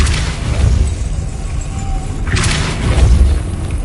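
A Depulso spell fires in a video game, heard as a loud, rumbling boom with a burst of low thuds and a brighter whoosh swelling midway, followed by a second heavy impact near the end.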